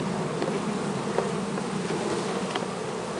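Honeybees being shaken off a hive frame into a dish during a summer varroa mite check, giving a dense, steady buzzing swarm close by, with a brief knock near the end.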